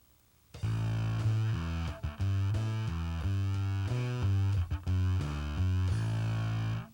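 A bass guitar runs through a Boss compact overdrive/distortion pedal, playing a gritty, sustained riff of held low notes that shift pitch every half second or so, loud and alone.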